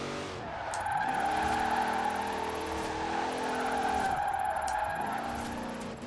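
A Dodge Durango SUV built into a 'Demon' in Forza Horizon 4 drifts, its all-wheel-drive engine droning loud and steady while tyres squeal and skid continuously through the corners, with no voices.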